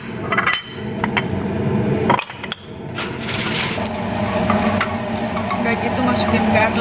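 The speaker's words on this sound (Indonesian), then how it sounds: "Lalu kita masukkan ginger." Ginger sizzles loudly in a hot frying pan while a utensil stirs and scrapes through it, with a few sharp clinks against the pan and a steady frying hiss that carries through to the end.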